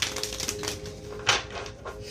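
Tarot cards from an old Morgan Greer deck being shuffled by hand, giving soft papery riffles and flicks with one sharper snap near the middle, close and fairly quiet, with no talking.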